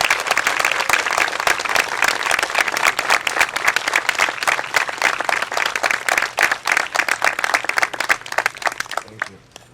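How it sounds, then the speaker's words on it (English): A crowd at an outdoor park groundbreaking and name dedication applauds standing veterans, dense sustained clapping close and loud for nearly ten seconds before tapering off. "please stand so that we can all recognize you and applaud your efforts for our country"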